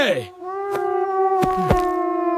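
A cartoon fox in an animated children's story howls loudly after a big meal. A voice imitates the sound as a long, sustained wavering howl, with short cries breaking in near the end.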